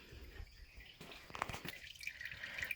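Coolant trickles and drips out of the radiator drain plug on a classic Chevy, a faint, uneven patter of liquid close by with no voices.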